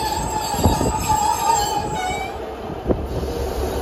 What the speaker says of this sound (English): arriving now is the 1606 Transport for Wales service from Merthyr Tydfil to Barry Island